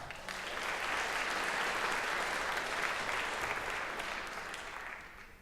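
Audience applause at the 2018 All County Jazz Festival: a steady, full wash of clapping that holds for about five seconds, then tapers off slightly at the end.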